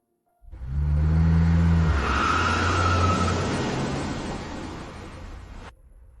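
A luxury car approaches loudly, its engine rumbling low and a whooshing roar swelling as it draws near and passes, then fading off abruptly; no one speaks.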